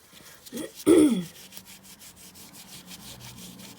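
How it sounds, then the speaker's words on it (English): Cloth rubbing over jewellery during polishing, heard as a few close, brief scuffing strokes near the start, then a quieter, steady soft rub. "And as you're polishing, you'll see the transformation straight away."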